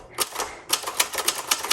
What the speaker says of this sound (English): let's do a little bit of typing.